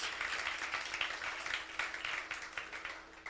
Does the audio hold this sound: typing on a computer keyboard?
no